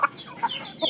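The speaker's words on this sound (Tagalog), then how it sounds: "Yan o, mga manok." Chickens on a farm cluck in a few quick, faint, close calls within under a second.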